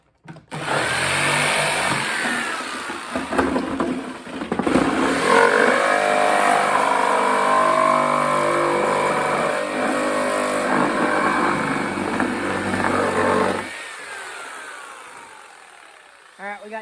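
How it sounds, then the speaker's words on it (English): A jigsaw saws a plastic bucket in half, loud and close, a sustained rattling motor buzz with surges that stops abruptly near the end; voices speak over parts of the cutting. "Jigsaw cuts through it like hot butter."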